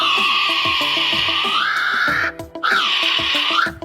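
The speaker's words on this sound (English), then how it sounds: "This is a kiwi." A kiwi gives two long, shrill, wavering whistled calls, loud and close, with a short gap between them and a steady rhythmic beat underneath.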